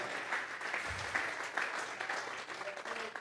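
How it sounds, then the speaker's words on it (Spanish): A church congregation breaks into steady, sustained applause during a worship service, a dense even patter of many hands clapping together throughout without a break. "Vamos a regalarle ofrenda de palmas al Dios de la gloria."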